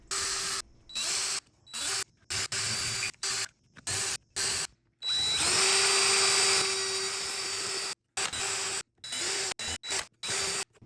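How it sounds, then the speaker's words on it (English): A power drill fitted with a burr bit grinds out the holes of a door strike plate, running in repeated short bursts with brief pauses between them and one longer sustained whine in the middle, loud and close. "clean up the strike plate holes with a burr bit"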